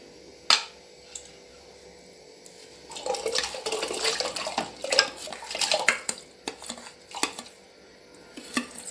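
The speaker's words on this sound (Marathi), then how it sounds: "आता ह्या कण्या कोमट पाण्यामध्ये मी ओतणार आहे" Dry maize grits are tipped from a dish into lukewarm water in a cooker, with a few sharp metallic clinks first, then a rustling, splashing pour and scattered knocks of utensils against the vessel.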